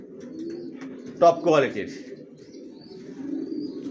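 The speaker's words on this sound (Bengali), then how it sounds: "একদম ইয়ং কবুতর।" Young racer pigeons, a sale pair of male and female still moulting, give a couple of close soft coos over a low background hum while someone talks nearby.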